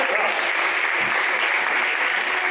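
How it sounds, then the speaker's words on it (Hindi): Audience applause at the closing ceremony of a Shiv Mahapuran religious recitation, a dense, steady clapping that fills the whole stretch without pause, loud and close. "आपकी ताली बजना चाहिए।"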